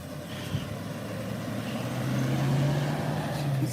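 A plumbing truck's engine rumbles low nearby, swelling slightly as it drives past, with faint background noise and no talk.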